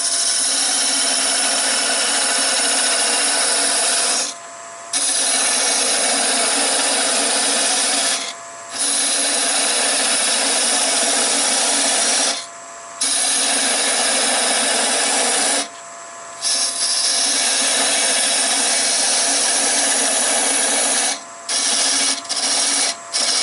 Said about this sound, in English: I'll take my parting tool and go ahead and reduce the size of that.